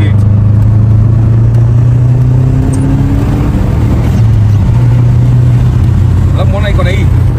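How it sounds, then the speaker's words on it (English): A Subaru GC8 engine drones steadily from inside the car while it is driven, with a low, constant hum throughout. A voice talks over the engine. "It's actually one of my first time driving a GC8."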